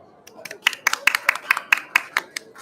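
Audience at an e-commerce and export conference event applauding panel speakers being welcomed on stage; a sparse, fairly distant round of individual sharp claps with clear gaps, building slightly then thinning out.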